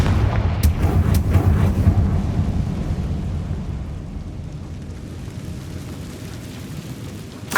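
A Confringo spell in Hogwarts Legacy lets out a deep, booming blast that rolls on like thunder, loud at first and slowly fading over several seconds.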